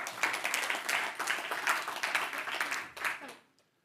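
Applause from an audience at a business leaders' gathering as four nominees come forward: brisk, fairly close clapping for about three seconds that fades out abruptly.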